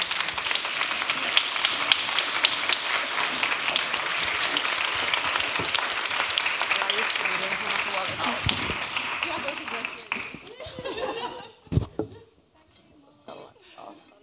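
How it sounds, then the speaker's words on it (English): A standing audience at a legal tech meetup breaks into loud sustained applause with a few audible voices underneath, fading out after about ten seconds to scattered claps and quiet room noise. "But let's give our massive applause,"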